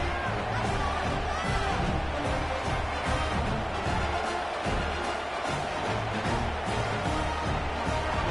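A stadium crowd murmurs and rumbles in the video game College Football 25, a dense, constant roar of babble with faint cheering, steady throughout and fairly loud, while commentators talk over it.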